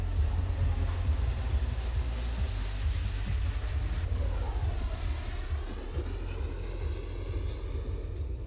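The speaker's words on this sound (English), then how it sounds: "These were the first engine tests that we did of a hydrogen afterburner." Hydrogen afterburner engine test, a loud, continuous deep roar with broadband rushing noise holding steady throughout, with no voices.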